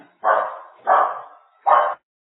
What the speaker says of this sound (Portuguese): Minha cachorra tá latindo aqui.